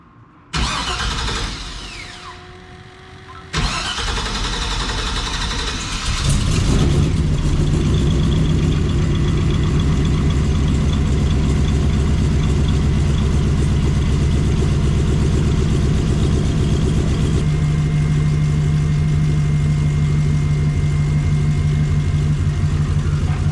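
LS-swapped Pontiac Trans Am V8 cranks and fires up, then settles into a loud, steady close-up idle with a slight rise in tone later on; no talking.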